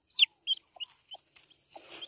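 Short clucks from a chicken on a farm, several close, sharp calls in an irregular rhythm with brief rustling between them, no talking.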